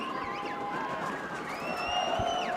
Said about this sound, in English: you can hear the Marshfield crowd as they get into it